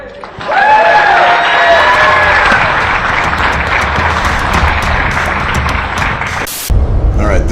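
An audience at a comedy magic show breaks into loud, sustained applause with some cheering, clapping continuously for several seconds before it cuts off.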